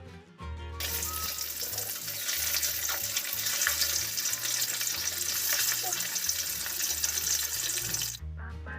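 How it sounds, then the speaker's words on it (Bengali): Katla fish fries in oil in a pan with a loud, continuous crackling sizzle that starts abruptly and cuts off near the end, close to the listener with faint low clatter underneath. "মাছের এপাশটা আমার ভাজা হয়ে গেছে, এবারে ওপাশটাও একইভাবে ভেজে নেব"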